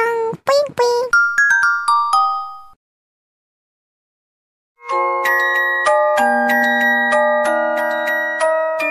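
Cute Korean-themed WhatsApp notification tones: a bright chiming jingle of quick plucked notes, a pause of silence, then a longer, fuller melodic chime sequence, loud and clear.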